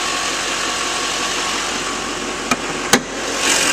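A 2011 Chevrolet Silverado 2500 with a 6.6L diesel engine idles in a steady, even rumble, with two brief sharp clicks partway through.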